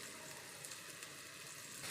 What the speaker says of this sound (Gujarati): ડુંગળીનો અને લસણનો વઘાર પણ કરવાનો છે। આવી રીતે વઘાર કરી દેવાનો।